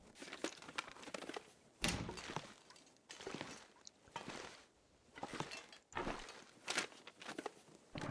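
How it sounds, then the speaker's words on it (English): Footsteps crunching through a survival video game world, a steady series of soft, crinkly steps that swell and fade in regular bursts, fairly quiet and alone with no talking. "I heard footsteps to my left."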